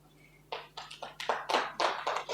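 Audience applause at a business partners meet in Odisha, starting as scattered claps then building into a denser, uneven burst of hand clapping across the room, moderately loud without speech over it.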